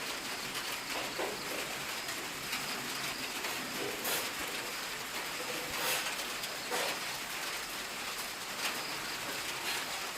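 Steady rain falls as a constant soft hiss, fairly faint and even throughout, with no voices.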